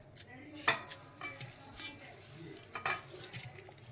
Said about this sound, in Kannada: ಸ್ವಲ್ಪ ಹಾಕಿ ಚೆನ್ನಾಗಿ ಮಿಕ್ಸ್ ಮಾಡ್ಕೊಂಬಿಡೋಣ